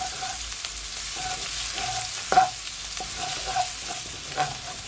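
Garlic sizzles in hot oil in a heated pot, a steady close frying hiss broken by brief clinks and scrapes of stirring.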